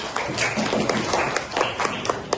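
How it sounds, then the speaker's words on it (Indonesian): A classroom of pupils claps together during a lesson on sound, quick bursts of hand claps falling in a loose rhythm with short gaps, close and lively, mixed with a few voices. "tepuk tangan"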